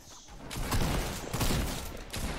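Gunfire in a video game, a rapid burst of loud shots in two main bursts with a brief lull between, close and harsh, with no talking.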